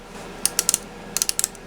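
A part clicks onto a UTG U416S quad rail on an AR15 rifle, giving two quick bursts of four sharp, close mechanical clicks separated by a short pause.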